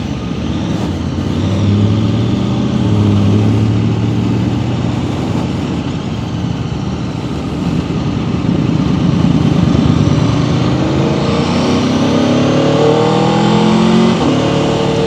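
2026 Aprilia RSV4 Factory sport motorcycle engine pulling hard with a quick shifter, a loud continuous roar that climbs in pitch, drops at each rapid gear change and climbs again, with no talking.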